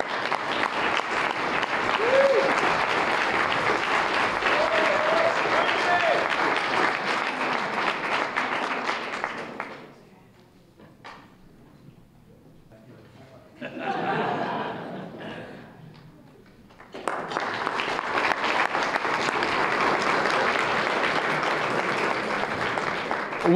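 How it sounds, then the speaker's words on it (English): Audience at an awards gala breaks into loud sustained clapping, pauses briefly with a short burst in between, then swells again into full applause. "So let's give a round of applause to Wendy."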